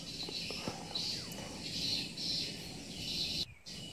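Swiftlet calls echo inside a swiftlet nesting building in Sabah, Malaysia: a steady run of repeated high chirping bursts over a constant background hiss, with no voices.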